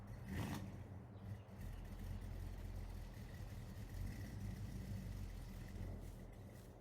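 A truck engine idles in Farming Simulator 22, a steady low rumbling drone that holds constant throughout with no talking.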